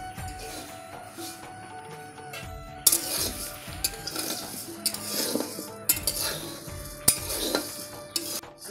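A spoon scrapes and clinks against a pan while rice is stirred and roasted until darkened, with irregular metallic knocks and scraping strokes repeating close by, fairly loud, with no talking.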